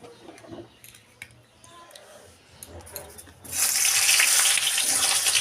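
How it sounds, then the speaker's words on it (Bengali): Cut potatoes go into hot oil in a home kitchen. After a few seconds of quiet clinks and handling, a loud, steady sizzle erupts and continues to the end. "এখানে তেল গরম করে নিলাম নিয়ে এই তেলের মধ্যে আমি আলুগুলো ভালো করে ভেজে নেব"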